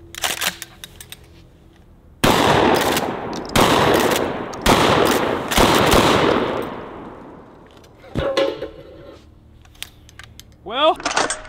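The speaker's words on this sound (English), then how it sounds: "when you're shooting a trench gun, you obviously have to have this" A trench gun shotgun fires in several loud, sharp blasts spaced a second or so apart, each followed by a decaying echo, with quieter mechanical clicks between shots.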